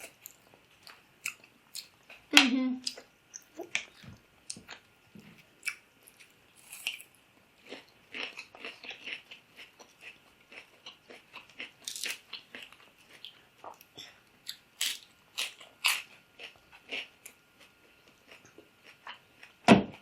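Homemade pizza with cheese, sausage and pepperoni being chewed close up: a long run of crisp bites and wet, crunchy chewing in irregular bursts, loud and near, in an otherwise quiet room.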